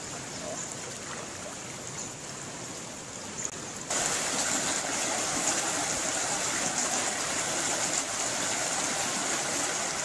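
Flash flood water from an overflowing river entering a residential neighborhood, heard as a continuous rushing roar that grows noticeably louder partway through, with a voice speaking over it.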